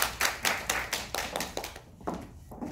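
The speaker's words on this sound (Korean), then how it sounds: "박수로 또 맞이해주시기 바랍니다" Audience at a Korean business lecture event claps to welcome a speaker, a run of fairly loud, uneven hand claps over about two seconds that thins out and fades toward the end.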